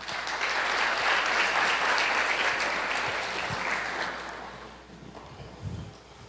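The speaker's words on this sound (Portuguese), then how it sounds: "Aplauda o Senhor." Church congregation applauding during a worship service, with loud dense clapping that swells and then gradually fades out, ending with a few scattered claps and soft room noise.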